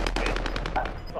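Rapid automatic gunfire in the video game Warzone, a tight burst of evenly spaced shots that are loud and close, trailing off at the end, with no talking over it.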